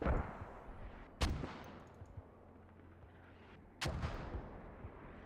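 Mortar rounds fire in a multiplayer shooter match, two loud sharp blasts a few seconds apart, each trailing off in a rumbling decay.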